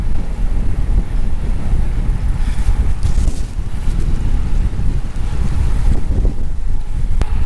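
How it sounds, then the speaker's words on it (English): Strong wind buffets the microphone outdoors with constant loud rumbling gusts, blotting out other sounds. "It's that windy now."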